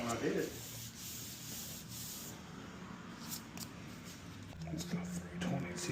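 Abrasive sanding on a 2018 Nissan Frontier headlight lens, a steady raspy rubbing that runs close and fairly quiet throughout, with soft strokes swelling near the end.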